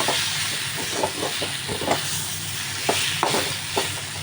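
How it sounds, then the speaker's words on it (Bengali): Rice fried with spices in a pan for shyama-rice khichuri, a steady hiss and sizzle with irregular scraping stirs at close range and no talk. "এটা একটু মশলার সাথে ভালো করে একটু কষিয়ে নিলাম নাড়াচাড়ি করে"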